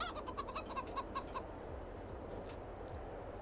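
Chickens cluck in Farming Simulator 22, a quick run of rhythmic clucks over the first second and a half, then a steady low game ambience with no further calls.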